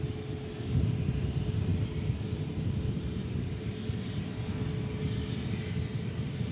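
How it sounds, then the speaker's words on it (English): An MD-11 jet airliner takes off at DFW airport, heard as a steady, broad roaring rumble of engines from a distance, sustained and fairly even throughout with no talking. "That's some fine work as we see the MD-11 take off."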